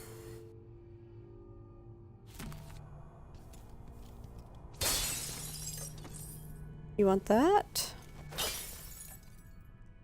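Glass shatters in a quiet room during stealthy play in the video game Dishonored, with a loud crash and tinkling fragments that ring out amid low background hum and a short spoken line.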